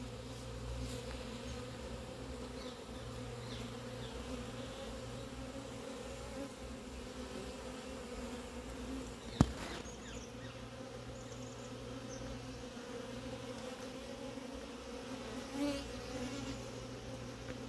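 Honeybees hum steadily inside an open hive at an apiary, a dense, close, continuous drone that stays level throughout, broken by a single sharp click near the middle and a brief louder buzz of a bee passing near the end.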